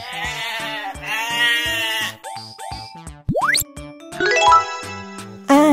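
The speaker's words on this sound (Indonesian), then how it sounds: "Domba." Several wavering sheep bleats sound close and clear over a bouncy children's music track, broken up by cartoon sound effects such as a quick rising whistle.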